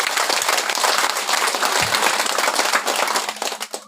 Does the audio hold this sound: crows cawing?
no